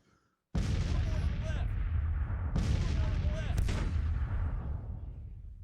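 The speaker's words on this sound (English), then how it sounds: "Love seeing those shells fly overhead." Civil War artillery shells firing in the strategy game Grand Tactician: The Civil War. Two heavy, close booms roll into a sustained rumbling barrage, with a further sharp blast, forming a loud, continuous battle din.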